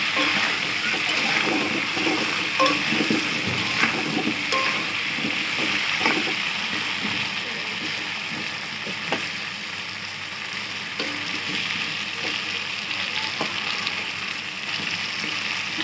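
Potato pieces fry in hot oil with turmeric while being stirred, a steady close sizzle running throughout with occasional scraping clicks of the spatula.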